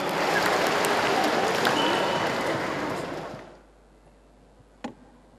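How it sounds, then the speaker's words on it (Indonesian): Audience applause for Indonesia's Minister of National Education, a dense crowd of clapping hands that holds steady for about three seconds, then fades out, leaving near silence broken by a single sharp click. "Kita beri tepuk tangan untuk Bapak Menteri Pendidikan Nasional."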